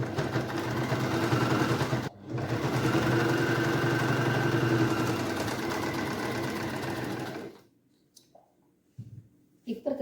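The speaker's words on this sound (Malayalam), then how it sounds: "ഈ സൈഡ് ഒന്ന് മടക്കി അടിക്കുക." A sewing machine runs steadily while stitching a folded hem on a saree skirt, a loud continuous whir for several seconds with a brief pause, then stopping and leaving faint handling sounds near the end.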